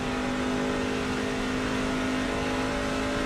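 Racing truck engine in a video game holding a high, steady whine at around 7,000 RPM on an oval track, a loud sustained tone that stays constant with no talk over it.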